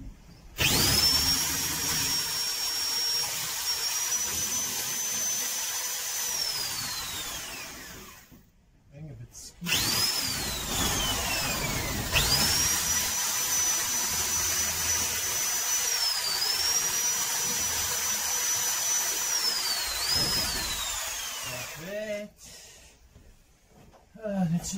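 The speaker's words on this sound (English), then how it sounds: "But we're just drilling out all the rivets here." A loud power drill drilling out rivets during a van build whines steadily, speeding up and slowing down across several long bursts with brief pauses, close by and dominating the scene.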